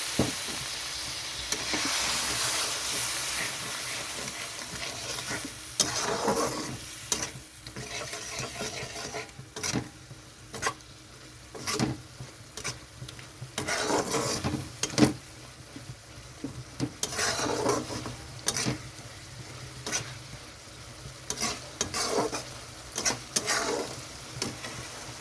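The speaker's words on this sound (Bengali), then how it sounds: "ভালো করে আরও কষাতে হবে।" Masala dried fish is sautéed and stirred in a pan with a little added water, giving a soft sizzle that comes and goes. Repeated scraping and clattering stirs are heard close up throughout.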